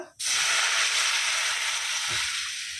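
Dal tempered with ginger and cumin hits a hot pan with a sudden loud sizzle that holds as a steady, crackling hiss and eases off slightly toward the end, with a faint stir midway.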